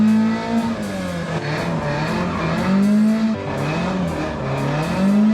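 A Ford Escort Mk2 on the road, its engine droning steadily and loudly with rising and falling pitch as it pulls through the gears, close by and without talk.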